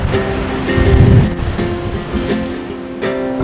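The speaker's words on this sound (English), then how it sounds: "being alone on this beautiful beach" Ocean waves break and wash steadily onto a deserted beach, a broad continuous surf roar with gentle swells and a little wind buffeting the microphone, no voices.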